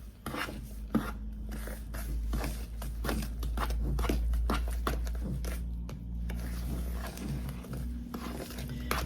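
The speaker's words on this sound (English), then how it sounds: "And then I'm just going to stir this up." Cornbread batter made from two packages of mix with two eggs and milk being stirred in a bowl, a steady scraping and rubbing with irregular spoon knocks, close and moderately loud, no talking.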